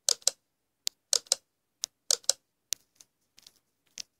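Sharp, dry clicks come from a nail-painting game, arriving in quick pairs and small clusters with short silences between them, close and crisp, and no one speaks.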